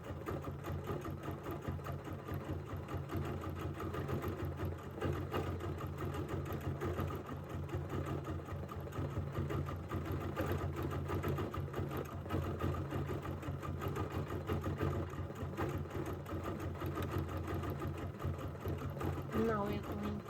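A sewing machine runs continuously while stitching couched fibers onto a quilted design, giving a steady, fast rhythmic whir that stays at an even level for the whole stretch.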